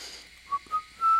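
A few short, faint whistled notes rise out of quiet room noise, ending on a slightly longer, clearer whistle.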